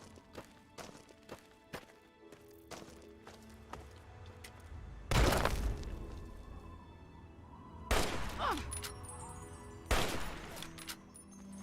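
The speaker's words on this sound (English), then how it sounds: "We are being attacked. I would not have known not for that explosion." In the Fallout: A Tale of Two Wastelands video game, scattered gunshots crack at a distance, then three loud explosive bursts boom out over the continuing fire.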